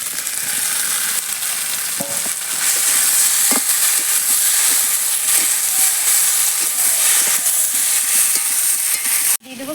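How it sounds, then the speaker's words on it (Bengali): Fried eggplant pieces go into a sizzling rohu fish-head curry with potato, and a dense, steady hiss of hot oil fills the pan, broken by a few soft clunks, then cut off abruptly near the end. "ভেজে রাখা বেগুনগুলো এবার দিয়ে দেবো।"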